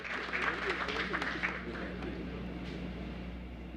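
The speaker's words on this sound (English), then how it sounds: "Please, a big round of applause as we welcome our Honorable Minister." An audience at an official interchange commissioning ceremony claps to welcome a government minister, a soft, dense patter of applause that stays fairly steady and moderately distant, with a voice faintly audible beneath it.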